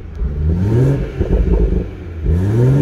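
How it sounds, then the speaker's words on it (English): A 2017 BMW M240i six-speed convertible revs in sport mode, its engine rising and falling twice in close, loud sweeps with crackling exhaust burbles between the revs. "Nice exhaust burbles, pretty awesome."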